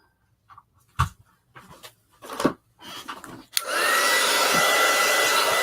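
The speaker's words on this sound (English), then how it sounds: "I'll plug in the heat gun." A heat gun switches on after a few scattered knocks and handling sounds, then blows with a steady, loud whooshing whine that holds to the end.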